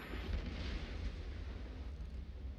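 In the naval combat game World of Warships, ship gunfire rolls out as a faint, muffled, continuous low boom and rumble lasting a few seconds, with no voices.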